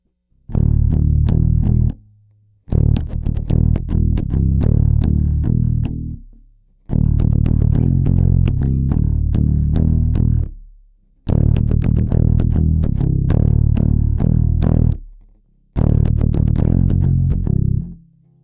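A bass guitar plays a chorus riff slowly in five distinct phrases separated by short pauses, loud and up close, with a thick, distorted, effected tone and sustained low notes.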